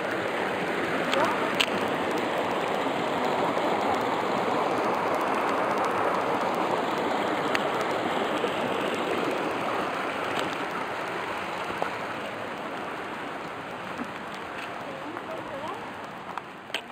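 A creek runs steadily over rocks, a continuous broadband wash of water that stays close and loud for the whole stretch with no talk over it.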